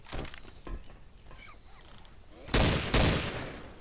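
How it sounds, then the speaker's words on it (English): An assault rifle fires in the video game Left 4 Dead 2: a few faint shots early on, then two loud, sharp bursts of rapid gunfire near the end. "I'm gonna take the assault rifle."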